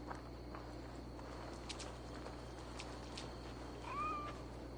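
A cat in the Assassin's Creed Valhalla video game gives a single short, faint meow near the end over a steady low ambient hum with a few soft footstep-like taps.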